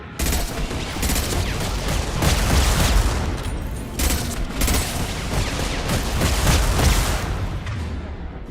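Loud, dense gunfire from the video game Mass Effect 2 during a Collector Ship fight, sustained volleys of shots and booming impacts packed tightly together with almost no gaps.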